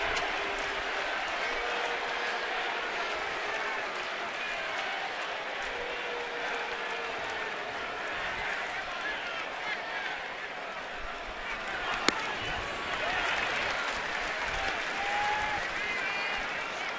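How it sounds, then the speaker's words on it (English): Baseball crowd noise in a stadium during a Yankees versus Nationals game, a steady dense roar of fans cheering and booing that carries on throughout, loud and continuous. "Yankee fans making noise. Nats fan booing them down."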